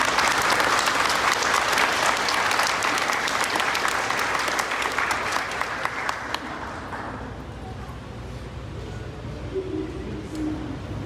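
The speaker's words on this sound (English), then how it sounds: "And I just want to give a huge round of applause to Ms. Swinger for putting all of this toget" An audience claps loudly at an elementary school Veterans Day concert. The dense applause carries on for several seconds, then fades to scattered claps and faint room voices.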